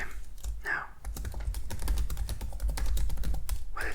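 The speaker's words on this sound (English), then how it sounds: "I'm just gonna type and talk at the same time" Long fingernails tapping and clicking across a computer keyboard in quick, close keystrokes, continuous under a soft spoken voice that comes and goes.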